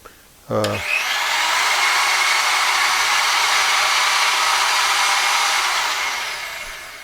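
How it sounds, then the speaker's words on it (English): A loud electric motor powering a wood lathe spins up with a brief rising whine, then runs with a steady, strong drone before slowly easing off near the end. "But that motor, it's really annoyingly loud."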